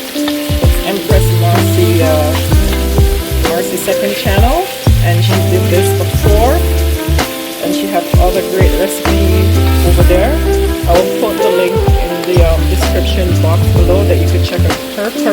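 Bony goat meat for Jamaican curry goat sizzles and fries steadily in a pot, a loud continuous crackle under music and occasional stirring clatter.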